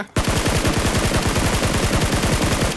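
Rapid automatic gunfire in the mobile battle royale game PUBG Mobile, a loud, close, steady stream of shots after a brief silent start, continuing without pause.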